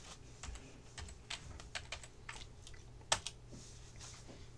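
Someone types on a computer keyboard in AutoCAD 2010, a quick irregular run of soft close key clicks with one sharper spacebar press, over a faint low hum.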